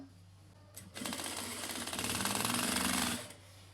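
A sewing machine stitches fabric for girls' shorts in one rapid mechanical burst of about two seconds, close and clear against a low background hum, with no talking.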